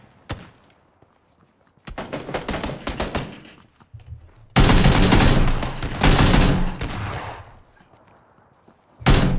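Gunfire at a military base in the game PUBG: bursts of rapid automatic shots and single loud reports, close and sharp, with pauses of near silence between volleys and no talk.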